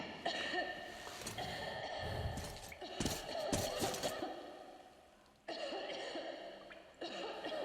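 A woman coughs repeatedly in Metro Exodus, a run of rough, throaty bursts fairly close over a steady ambient drone with brief pauses between fits.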